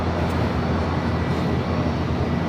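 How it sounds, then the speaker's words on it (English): United Boeing 757-300 airliner, 22 years old, in from Chicago O'Hare, touching down on the south side runway at LAX: a brief, loud, dense engine roar and rumble, steady and close, with no talking. "Another United 757 at 300 touching down here on the south side to 25"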